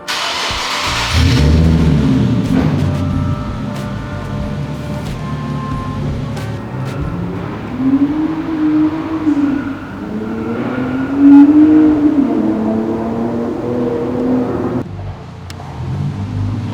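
A modified-exhaust Nissan 370Z drift car drives close by, its engine note droning steadily and rising in revs twice toward the end, loud throughout with no speech.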